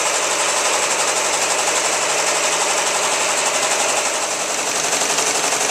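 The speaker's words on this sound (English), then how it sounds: "here the machine is still doing its first color" A multi-head embroidery machine stitches a T-shirt design in a loud, continuous mechanical whir with a fast rhythmic needle chatter, steady and close throughout.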